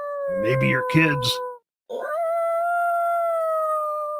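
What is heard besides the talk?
coyote howling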